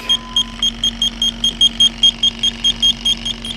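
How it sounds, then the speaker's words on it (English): An electronic AC leak detector on high sensitivity sounds behind the compressor of a GMC Acadia, giving a fast, even series of about fifteen sharp high-pitched beeps over a steady low hum, close and clear. "when I go up behind the compressor, I get quite a few beeps, and that's on high sensitivity"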